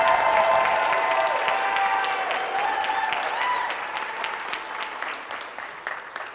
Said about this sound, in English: if I could indulge you with a round of applause to make Madeline's birthday extra special